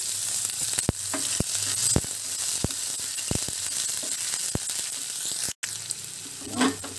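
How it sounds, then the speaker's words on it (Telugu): Garlic and then ginger sizzle in hot oil for gobi manchurian, a steady broadband frying hiss with scattered crackles and pops, close and continuous for about seven seconds, with one brief dropout near the end and no talking. "వెల్లుల్లిపాయలు కొద్దిగా ఫ్రై అయ్యాక అల్లం ముక్కలు కూడా వేసుకుందాము"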